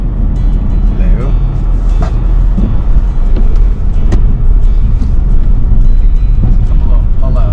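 Car driving along a foggy coastal road out to Ferryland Lighthouse in Newfoundland, a loud steady interior rumble of engine and tyres throughout, with a person speaking over it.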